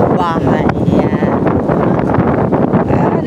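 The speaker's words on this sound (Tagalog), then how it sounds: "ang lakas po ng hangin" Strong wind roars as a loud, constant broadband rush outdoors in Barangay Panikihan, with a person talking under the steady gusting.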